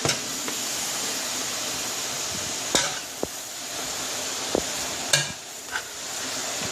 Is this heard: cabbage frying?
yes